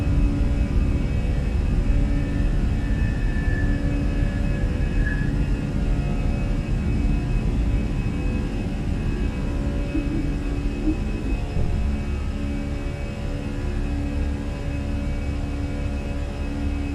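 Fenix A320 airliner in Microsoft Flight Simulator climbing out after takeoff, a steady loud roar of jet engines with low rumble filling the whole stretch, holding constant and easing only slightly toward the end, with no voices.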